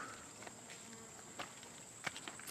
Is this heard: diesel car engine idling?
no